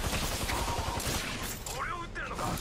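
Rapid gunfire bursts in a team shooter video game, dense crackling shots running throughout under a busy mix, with faint voices sounding partway through.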